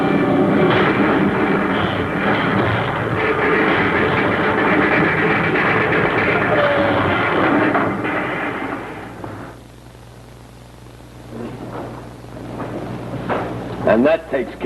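An aircraft in a power dive toward a crash landing in a 1950 space serial, a loud sustained roaring rumble that thins out into a low hum, followed by a few sharp impact-like clatters at the end.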